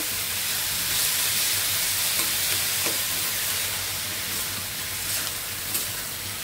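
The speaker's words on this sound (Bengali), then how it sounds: "এখন একটু ভালো করে ভেজে নেব" Vegetables frying in a pan, a dense, hissing sizzle that runs steadily throughout, with a few faint stirring knocks, close and fairly loud with nobody speaking.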